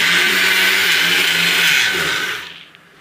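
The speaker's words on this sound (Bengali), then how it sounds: "সুজিটা কিন্তু আমি খুব ভালো করে দেখুন এইভাবে পেস্ট করে মানে গুঁড়ো করে নিয়েছি" An electric grinder blends semolina into a fine powder: a loud, steady motor whir that holds for about two seconds, then winds down and stops.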